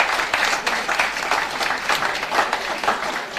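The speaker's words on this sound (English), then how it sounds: "Round of applause," A reception crowd bursts into a short, lively round of applause, many hands clapping densely and fairly close, with no talking over it.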